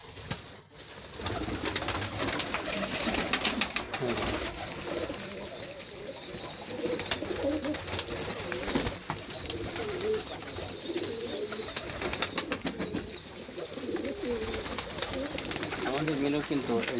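A native dove gives low, repeated coos near a pigeon house, faint and fairly distant amid outdoor ambience and occasional clatter, with a person talking at times.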